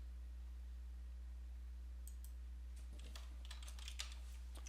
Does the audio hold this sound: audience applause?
no